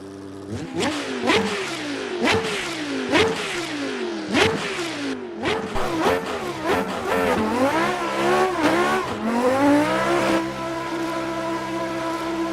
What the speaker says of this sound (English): My Lambo sounds like a race car.